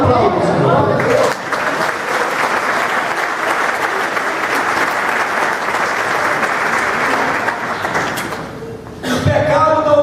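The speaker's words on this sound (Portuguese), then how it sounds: "Aplausos." Church congregation bursts into sustained applause during a sermon, a dense wash of clapping filling most of the stretch before tapering off, with a voice returning briefly at the end.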